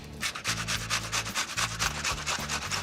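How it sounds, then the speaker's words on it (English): An onion is grated by hand in a home kitchen, rhythmic rasping strokes scraping against the grater about a dozen times in quick succession, close and clear with no voices. "We're not going to slice the onion or the potatoes. We're actually going to grate them."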